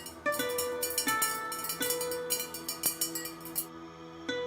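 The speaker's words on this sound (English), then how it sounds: "This is the sound of Ru Ware." Ru Ware porcelain is struck over and over, giving bright ringing tones that sustain and overlap in a quiet space, with no voices.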